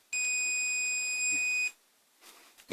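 A single steady electronic beep from a multimeter testing a capacitor on a scooter controller board sounds for about a second and a half, then cuts off, leaving faint quiet handling noise.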